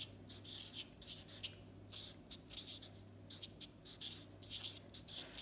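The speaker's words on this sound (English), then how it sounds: "you can write a little letter. So we're going to write" A pen writes a short message on a paper card, close and quiet, in quick scratchy strokes separated by brief pauses.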